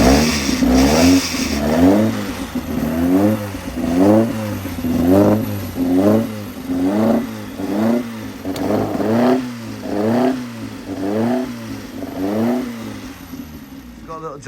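A 1040 car engine on a dyno after a cold start runs loudly and close, pulsing in regular rising-and-falling revving surges about once a second, with a mechanical clatter.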